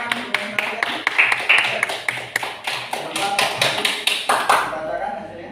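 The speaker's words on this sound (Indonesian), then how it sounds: "Tepuk tangan dulu buat kelompok 1." A classroom of students applauds group 1, a steady run of brisk, close claps lasting several seconds before stopping abruptly, with voices mixed in underneath.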